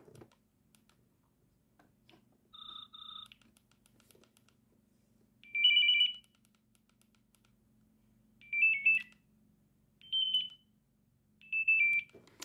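A Nokia 3410/3510 mobile phone plays ringtone beeps: a short double chirp, then four separate bursts of bright electronic trills spaced a few seconds apart, loud against near silence.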